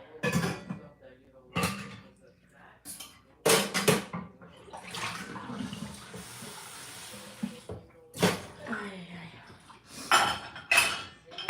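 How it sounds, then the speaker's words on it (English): Dishes are loaded into a home dishwasher, with sharp clinks and clatters of plates and cutlery coming in irregular bursts and a softer rustle and hiss between them; a voice may be faintly present. "if you guys hear a lot of noise because I'm putting the dishes in the dishwasher"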